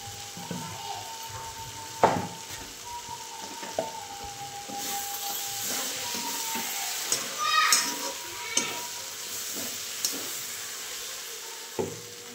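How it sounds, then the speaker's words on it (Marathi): Peanut powder being stirred into a tomato vegetable curry, a spoon scraping and clinking against the pan in irregular strokes over a low steady sizzle, with occasional louder knocks. "आता शेंगदाण्याचं कूट टाकून पण चांगलं हलवून घेतले."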